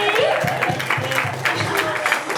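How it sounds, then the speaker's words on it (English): Wedding party guests break into close, lively applause, mixed with cheering and crowd chatter in a busy reception room. "Round of applause for Lucy"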